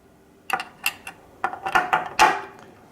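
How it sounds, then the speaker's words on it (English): Ratcheting clicks and metallic taps from a magnetic socket wrench unscrewing a nut on a Stern KISS pinball machine, a series of sharp close clicks in irregular bursts. "I use a magnetic socket wrench"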